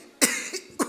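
A voice imitates an old man's cough, producing two rough, hacking bursts close to the microphone within about a second.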